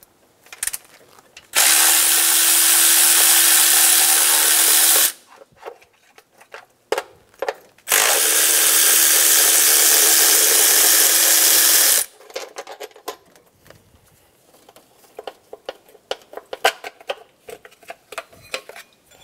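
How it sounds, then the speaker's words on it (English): A power tool spins a 12 mm socket to remove the middle timing belt cover bolts on a 2000-2006 Toyota Tundra 4.7L V8: two steady whirring bursts of a few seconds each, followed by scattered clicks and ratcheting clatter. "Using a 12 millimeter socket, remove the two bolts for the middle timing belt cover."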